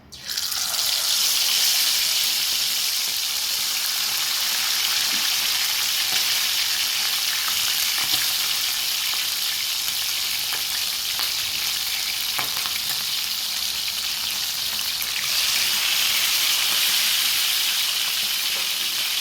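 Chicken pieces fry in hot oil with a dense, steady sizzle that holds loud and continuous throughout, punctuated by occasional soft clicks of stirring, briefly easing before swelling again near the end; no voices.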